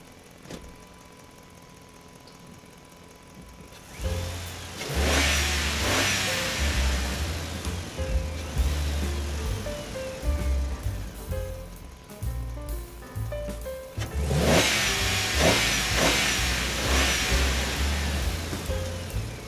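A bulldozer engine clearing leftover asphalt on a busy road starts after a quiet moment, then rumbles and revs repeatedly at close range, surging loudly in two long bursts with clanking and hiss.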